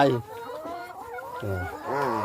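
Egg-laying hens on a farm cluck nearby in short, throaty bursts with rising and falling pitch, a few calls overlapping against quiet background.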